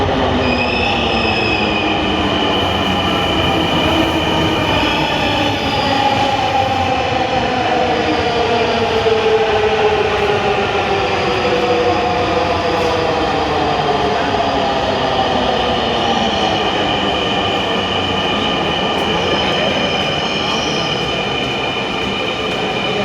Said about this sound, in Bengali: এখনও মেট্রো রেলের জন্য ওয়েট করতেছি, টিকিট কাটলাম, কাটা শেষ করে অপেক্ষা করতেছি ট্রেনের জন্য